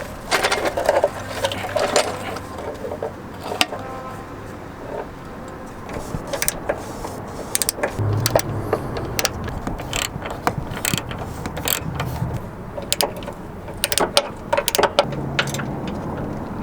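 A ratchet wrench tightens bolts holding a new battery to the frame of a converted school bus: repeated metallic clicking strokes in quick bursts with short pauses, close and fairly loud.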